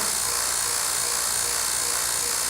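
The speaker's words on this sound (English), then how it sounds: "Turn on the pump. The little small 5 CFM pump is good enough for most field work." A small 5 CFM vacuum pump running for a vacuum clamping work table, giving a steady, loud, continuous whine and hiss with no change throughout.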